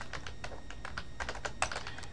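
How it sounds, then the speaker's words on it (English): Typing on a computer keyboard to enter a command: a quick, irregular run of close, crisp key clicks lasting a couple of seconds, with no voices. "So we're going to go ahead and type disk edit"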